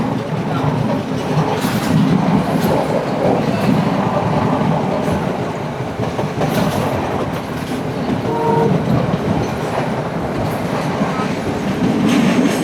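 A passenger train running along the Indian Ocean coast near Colombo, with a loud, continuous rumble and rattling clatter of the carriages throughout.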